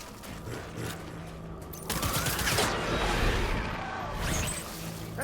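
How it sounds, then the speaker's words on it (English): Bursts of gunfire in the video game Death Stranding, with rapid rattling volleys that build into a dense, continuous barrage, heard at moderate level without speech. "Taking fire!"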